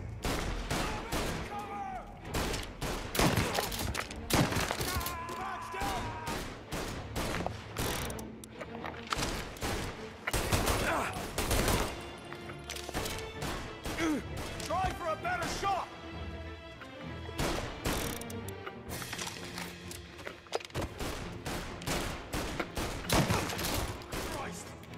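Gunfire in the Mafia video game: repeated bursts of shots and rapid fire crackle throughout a firefight, with loud individual reports and shouting voices mixed in among the shooting.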